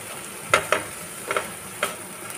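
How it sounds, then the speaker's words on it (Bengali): Pointed gourd (potol) fries in a pan, with a handful of distinct scraping stir strokes over a faint, low sizzle, close by and unhurried. "কিছুক্ষণ একটু এটাকে ভেজে নেব"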